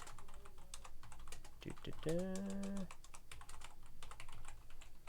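Quiet, continuous typing on a keyboard, a steady run of light clicks, briefly overlapped by a short sustained voice or tone in the middle.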